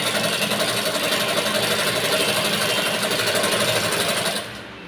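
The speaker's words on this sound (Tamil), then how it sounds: "இந்த துணியில் தையல் போடணும் ஓரமாக" An electric sewing machine stitching along the edge of a blouse hem runs in a steady, fast mechanical whirr with a dense rattling pulse, continuous and close, cutting off just before the end.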